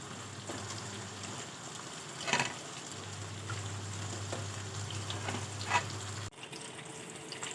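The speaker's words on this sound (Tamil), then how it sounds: "மீன் குழம்பு நல்லா கொதிச்சிருச்சு" Fish curry with mango bubbles in a pot, a soft continuous simmering hiss with a few brief clinks, quiet and close.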